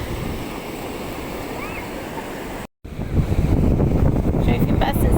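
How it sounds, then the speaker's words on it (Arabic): Tall sea waves break on a beach in a steady, loud surf roar mixed with heavy wind buffeting the microphone, the wash swelling louder toward the end. "ما هو مش عارف ينزل البحر بقى، الموجه عاليه"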